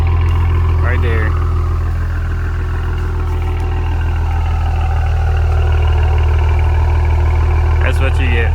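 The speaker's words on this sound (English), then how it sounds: "A nice custom exhaust in 2 hours." A Maserati Ghibli SQ4 fitted with a freshly built custom exhaust idles close by, a steady low rumble running throughout with brief voices breaking in near the start and end.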